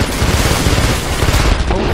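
Rapid gunfire from an attacking helicopter in the video game Rise of the Tomb Raider, a loud dense burst of machine-gun fire with booming impacts, continuous and close.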